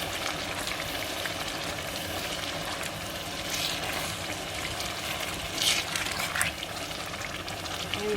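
Pre-cooked tomatoes frying in a pot for Ghana-style corned beef jollof rice, a steady broadband sizzle throughout with a few louder stirring scrapes and bursts near the end.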